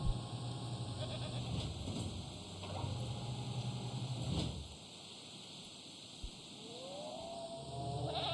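Goats bleat in the dinosaur park game Jurassic World Evolution, a few plaintive calls over a steady ambient game soundscape with low rumbling background, fairly quiet overall.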